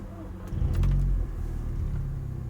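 An Audi S3 with a 300bhp engine rumbles low on a night drive, swelling briefly as it pulls away, then settling into a steady muffled drone heard from inside the car.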